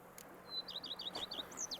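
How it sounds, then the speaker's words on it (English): Birds chirping in the Witcher 3 video game: a quick series of bright, repeated tweets and a few rising whistles, fairly close and clear over a faint ambient bed, with no talk. "Bees buzzing, birds chirping."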